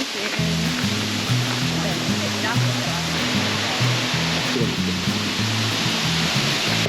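A waterfall at Plitvice Lakes National Park in Croatia roars continuously with a dense, rushing wash of water, steady and loud throughout, with low humming tones underneath.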